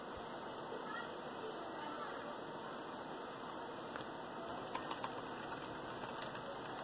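Keys tapped on a computer keyboard while adjusting a Game Maker Studio project, scattered light clicks over steady background hiss, faint and close.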